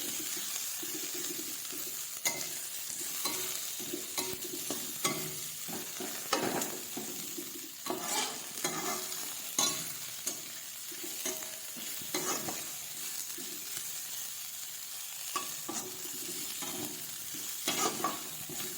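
Snack ingredients roasting in ghee while a spoon stirs them, a soft continuous sizzle broken by repeated scraping strokes against the pan at an uneven rhythm, close and fairly quiet.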